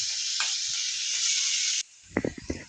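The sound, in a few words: potato and egg curry cooking in a pan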